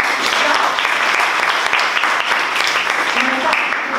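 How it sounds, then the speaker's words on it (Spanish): Dense, loud applause from an audience at an Ecuadorian-Iberoamerican cultural association event, continuous clapping filling the whole stretch with murmurs of voices beneath. "Fuerte el aplauso."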